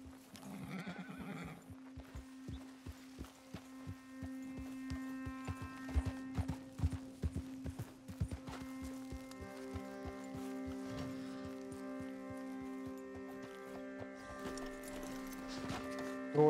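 Horse hooves clip-clop in Red Dead Redemption 2, a steady walking gait with a whinny near the start, over a sustained low droning game ambience and music.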